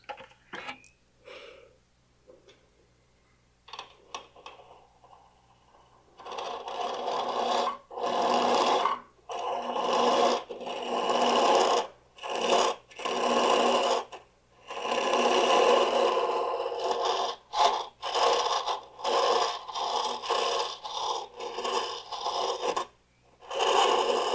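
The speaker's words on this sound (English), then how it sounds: "you are using a scraper or a cutter against with end grain down there, and sometimes it gets a little grabby" A woodturning scraper or cutter works the end grain inside a vase on the lathe, giving a rasping scrape that comes in repeated uneven passes of a few seconds each, broken by short quiet gaps.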